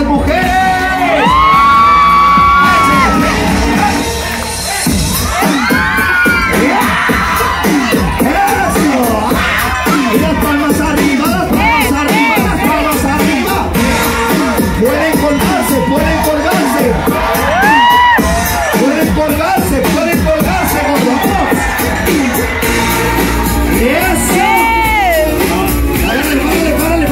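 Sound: women screaming and cheering crowd

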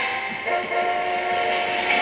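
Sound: train in the video game Ape Escape 3

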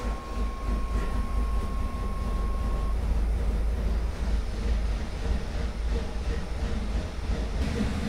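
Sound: 1986 Chevrolet El Camino engine running

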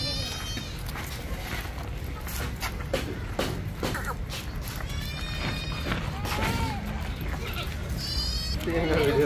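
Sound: goats and goat kids bleating

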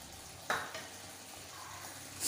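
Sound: chicken frying in a pan

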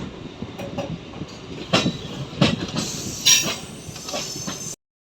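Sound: train entering railway station

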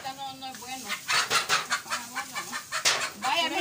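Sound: hen clucking

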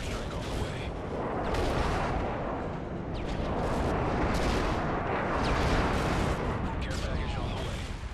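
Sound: airstrike explosions in a video game

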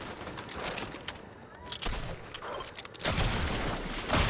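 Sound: gunfire in a shooter video game

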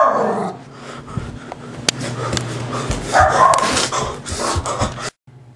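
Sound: rabid dog growling and barking

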